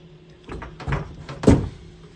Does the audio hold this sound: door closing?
yes